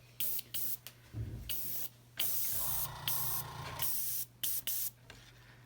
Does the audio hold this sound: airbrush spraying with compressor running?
yes